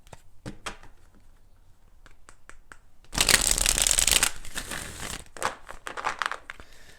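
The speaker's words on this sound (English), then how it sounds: "let's go ahead and do 4 shuffles" Tarot cards riffled and shuffled by hand, light taps and flicks building into a loud, rapid shuffling burst, then softer handling.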